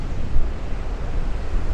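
Ocean surf rolling onto the wide sand at Nags Head Beach, a steady broadband wash of waves close by, mixed with wind buffeting against the microphone and no voices.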